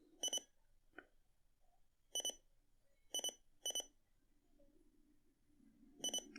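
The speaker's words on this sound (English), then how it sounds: "It's beeping as it's finding presets." An Aiwa CR-LD100 AM/FM stereo radio emits short electronic beeps while scanning presets, coming in quick single and double bursts at irregular intervals against faint background hiss.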